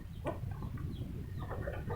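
A fighting rooster clucks in short, low, muffled bursts against a noisy background, fairly faint and close, with no talking.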